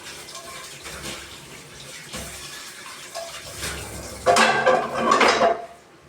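Metal cooking pots are scrubbed at a kitchen sink under running water after a pancit meal. A soft wash of water runs throughout, then a louder, close burst of clattering pots and splashing rises near the end.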